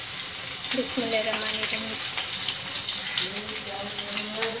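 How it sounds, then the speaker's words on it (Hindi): Chopped onion dropped into hot oil for a palak methi dish, frying with a loud, steady, close hiss throughout as a voice speaks briefly over it. "हमारा ऑयल भी गर्म हो गया अच्छी तरीके से। हम इसमें हमारा ऑनियन डालेंगे।"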